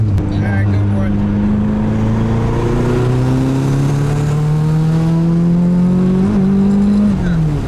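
K-swapped Nissan Cefiro engine revving steadily upward during a full-throttle turbocharged pull, a loud continuous rising drone inside the car that dips briefly near the end.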